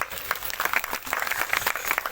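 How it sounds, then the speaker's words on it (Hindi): A crowd at a Baglamukhi yagna gathering in Bijnor claps, a brief uneven burst of many hands, fairly faint and somewhat distant. "ताली बजाओ आप लोग"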